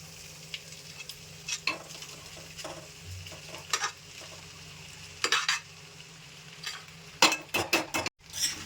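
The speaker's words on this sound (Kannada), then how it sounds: "ಈಗ ನಾನು ರೈಸ್ ಸೇರಿಸ್ಕೊಳತ್ತೀನಿ ರೀ" Rice is tipped into a frying pan and stirred, giving a soft ongoing sizzle broken by repeated scraping strokes and light clinks of a spoon against the pan, close and moderately quiet.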